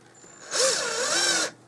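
A power drill runs once for about a second in an indoor setting while fitting outlets for a television, with a rising and falling whine at close range and nobody talking.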